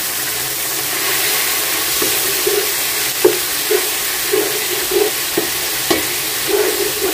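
Marinated chicken hits hot oil and butter in a pan for chicken vegetable fried rice, giving a steady close sizzle with repeated scraping and stirring knocks from a utensil throughout.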